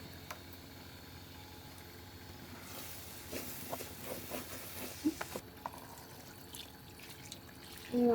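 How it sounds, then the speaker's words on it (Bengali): Water is poured into a pot of fried rice and meat for biryani, a soft running splash over a low background sizzle, with a few light clinks and stirring sounds near the end. "আমি পানি দিচ্ছি"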